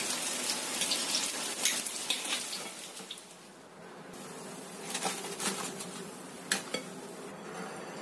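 Meat frying in hot oil in a pan, a steady crackling sizzle with bursts of spattering pops that rise and fall, close and moderately loud, with no voices.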